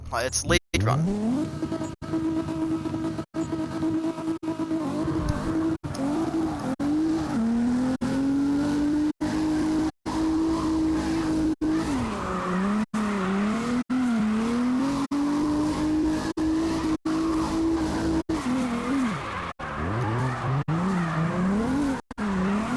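Race cars drift in CarX tandem mode, with a near, sustained engine whine that rises and falls with long tire squeals and a few sharp clicks breaking through.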